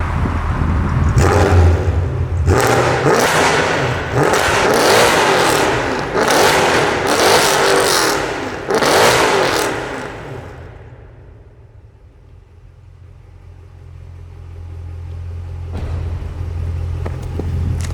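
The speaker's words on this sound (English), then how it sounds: "I just figured I'll get a few tunnel revs of this thing" A straight-piped 2013 Mercedes C63 AMG revs hard in a tunnel, with a rapid string of loud, echoing throttle blips over about ten seconds before it settles into a low, rumbling idle.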